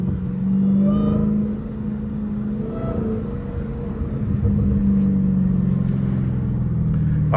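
A Dodge Hellcat's exhaust rumbles steadily from inside the car in street mode while it moves in traffic, with a deep drone that swells as it accelerates and a brief rise in pitch near the end.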